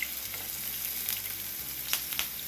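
Vegan steak sizzles and fries steadily in a hot pan while being basted, a continuous crackling hiss with a few louder spoon-like clicks and spatters near the end.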